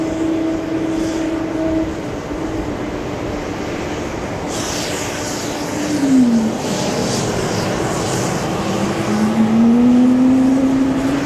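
A JetBlue jet taxis or departs at JFK airport on a hot day, its engine roar steady and broad, with a rising whine that swells louder toward the end.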